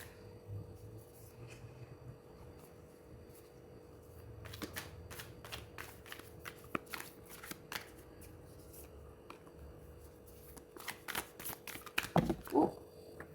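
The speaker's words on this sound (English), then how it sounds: "We're gonna shuffle it now." Light Seers tarot deck being shuffled by hand, a series of quick papery riffles and card slaps in bursts from about five seconds on, close and fairly faint over a low steady hum.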